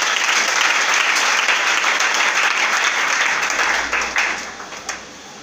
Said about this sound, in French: Acclamez très bien pour le Seigneur.